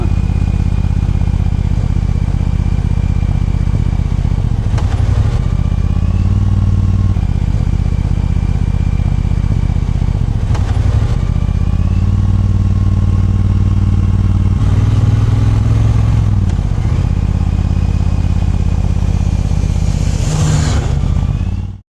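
A Triumph Bobber 1200cc motorcycle engine drones steadily while riding, loud and close, with brief gear-shift dips in pitch and some rattling clatter.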